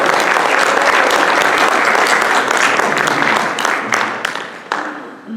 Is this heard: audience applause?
yes